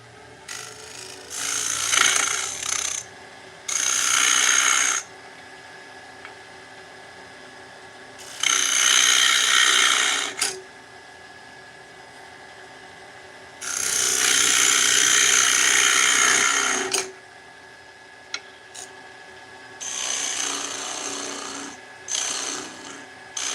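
A hand scraper rasps across wood in several separate bursts of harsh, broadband scraping, each lasting a second or a few seconds, with quiet gaps between strokes and no talk.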